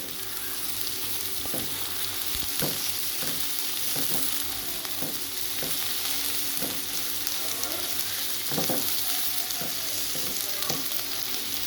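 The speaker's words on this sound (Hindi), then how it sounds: "लहसुन अदरक के पेस्ट को हम अच्छी तरह भूनेंगे" Steady sizzling of garlic-ginger paste frying in a hot pan, with occasional scraping and stirring clicks from a utensil throughout.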